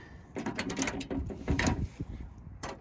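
Screws are worked loose from a metal plate during a teardown of electronic equipment, giving faint, close, irregular metallic scraping and clicking with short squeaky turns, no voices.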